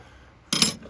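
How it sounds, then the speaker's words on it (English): A metal lid set onto a cooking pot on a roadside camp stove in a truck, giving one short, sharp clank with a brief ringing tail, close and fairly loud after a quiet stretch. "throw the top on it"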